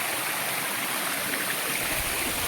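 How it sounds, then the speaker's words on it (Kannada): Water rushes steadily over the rocks at Byrappa Falls near Kuruvinakoppa, a constant close, broadband roar with no voices. "ನೋಡಿ ಈ ಥರ ಹರಿದು ಬರ್ತಾಯಿದೆ ನೀರು"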